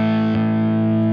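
An electric guitar chord rings out through a distortion preset on a Fractal amp, sustained and loud with a brief change in attack partway through before the tone cuts off.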